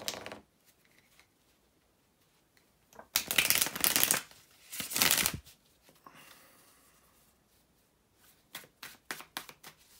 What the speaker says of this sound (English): bear with me just a second, guys, to do the shuffling here